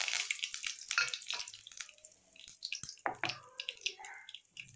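Dried red chillies and curry leaves drop into hot oil with popped mustard seeds for an inji theeyal, crackling faintly in irregular bursts with scattered small pops and quiet gaps.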